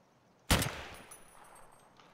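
A single sharp gunshot in Escape from Tarkov cracks out suddenly, then its echo tails off slowly over about a second and a half in an otherwise quiet scene.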